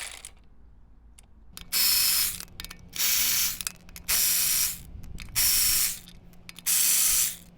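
A power ratchet or impact tool works on the wheel of a BMW E92 335i, firing five loud, hissing bursts of about a second each, evenly spaced with brief quiet gaps between them.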